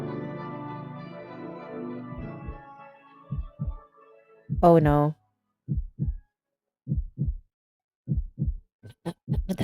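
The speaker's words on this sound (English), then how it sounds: "With the heartbeat." Heartbeat sound effect in a Thai drama scene, Only Friends: Dream On: a steady run of paired low thumps follows brief dialogue, a sharp burst and a spoken exclamation, with faint clicks near the end.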